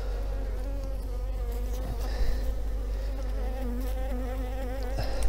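Dense, steady drone of honeybees buzzing at an open hive during autumn inspection, continuous and close, with a loud unbroken hum and no voices.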